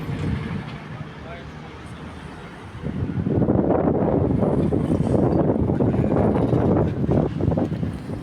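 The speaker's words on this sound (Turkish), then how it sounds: "Çok rüzgar var, çok rüzgar var." Strong wind buffeting the microphone, a roaring rush that grows louder partway through, with a voice faintly underneath.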